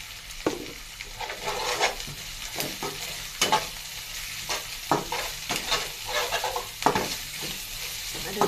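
Grated coconut frying with masala in oil, with a constant crackling sizzle broken by repeated scraping stirs of a spatula against the pan, heard close and loud with no one talking.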